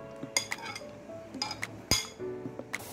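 Utensils clinking against a kadhai as onion goes into melted butter with ginger: several sharp metallic clinks and taps spaced irregularly, close and moderately loud, over a faint low cooking hiss.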